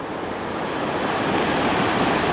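Ocean waves break and wash up on a beach where a long piece of kelp lies stretched out, a steady, loud roar of surf with some wind noise running through it and no voices.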